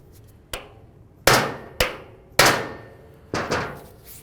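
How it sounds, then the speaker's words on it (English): Hammer striking a punch to drive down a bracket during a water pump job on a 2009-2020 Dodge Journey: five sharp metallic blows at uneven intervals, close and ringing, with quiet between. "just take a hammer and a punch. We're going to carefully get in between this area and just try driving it down a tiny bit"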